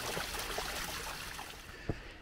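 Steady rushing water from a waterfall at Wallace Falls on a forest trail in a Washington state park, a continuous broadband wash, with one brief knock near the end.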